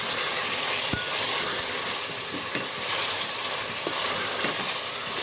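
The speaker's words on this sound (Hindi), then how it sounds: "अब इस मसाले में हम इसको फ्राई करेंगे, अच्छे से भूनेंगे" Chicken pieces fry in a masala in a pan while being prepared for kaddu chicken, giving a steady, fairly quiet sizzle and hiss with a few soft stirring scrapes and taps.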